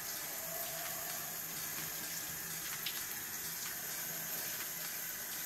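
A shower runs steadily while a cockatiel is bathed, giving a continuous close hiss of falling water with a few faint splatters and no talking.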